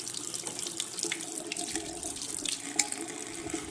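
Water runs steadily from a newly plumbed bathroom vanity faucet, a close, constant splashing hiss into the sink basin with no voices over it.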